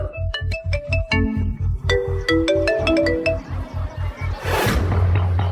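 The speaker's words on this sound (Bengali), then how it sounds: "ফোন আবার বেজে উঠল" A mobile phone rings with a loud, melodic ringtone: bright chiming notes play over a steady thumping beat, running continuously for several seconds.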